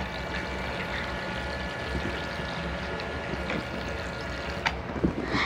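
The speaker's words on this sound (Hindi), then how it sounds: "आप देखिए ऐसे से वाटर आ रहा है" A toy kitchen set's small battery-powered tap pours a thin, continuous stream of water that splashes and trickles steadily, with a faint buzzing hum and a few soft clicks.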